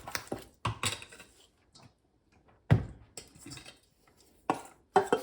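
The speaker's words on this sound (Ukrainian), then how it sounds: "Перемішуємо і додаємо до м'яса." Marinade sauce being stirred and mixed into meat for shashlik, heard as scattered clinks and soft knocks of a utensil against a bowl, with pauses in between, close and fairly quiet.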